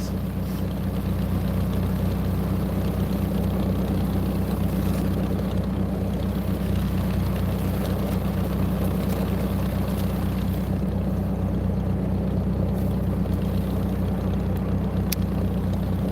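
A tractor engine idles steadily nearby on a snowy day in South Dakota, a constant low, droning rumble running throughout with no talking.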